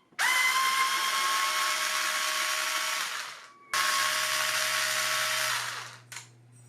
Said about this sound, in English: we need to remove these two. These are T8 Torx.